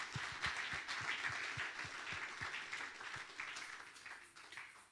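A church congregation applauds in praise during a sermon, a steady wash of many hands clapping. Rhythmic low thumps run underneath the applause for about five seconds.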